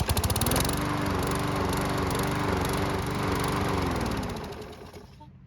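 A hot Murray lawn mower engine runs steadily at a loud, close, buzzing idle with a constant rattling drone, then fades and cuts off near the end; no voices.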